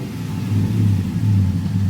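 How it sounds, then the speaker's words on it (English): A lifted Chevrolet Silverado with a 5.3L V8 and a TSP 224R cam revs up close. It gives a loud, deep, rumbling engine note that rises and holds through two short pulls of the throttle. "Let's give it a little rev."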